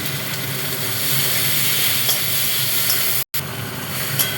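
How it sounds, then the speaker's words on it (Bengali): Tomatoes sizzling in a hot pan with garlic while cooking a cauliflower rezala, a steady close hiss of frying with faint stirring ticks and a brief cut in the sound, no talking. "এবারে টমেটো দিয়ে দেবো।"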